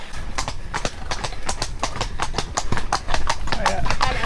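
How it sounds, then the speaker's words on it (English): A couple of horses clip-clop close by on a country road in the North Wessex Downs as they overtake a cyclist, a brisk, steady run of hoof strikes heard under someone speaking. "I'm just trying not to get overtaken by a couple of horses"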